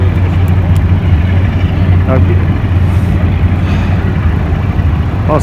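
A boat motor drones steadily at sea during a fishing trip, a loud continuous low engine hum that runs throughout without pause.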